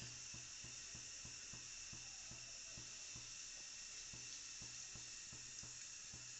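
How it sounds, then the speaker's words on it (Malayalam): Bread roasting in hot ghee in a pan, a steady soft sizzle with faint regular scraping or tapping beats, quiet and close with no voices. "ഇപ്പം നെയ്യ് ഒഴിച്ചിട്ട് അത് ചൂടായി വന്നിട്ടുണ്ട്. കുറച്ച് ഒഴിച്ചു കൊടുത്താൽ മതി, അതൊന്ന് റോസ്റ്റ് ചെയ്ത് കിട്ടാൻ അത്ര മതി."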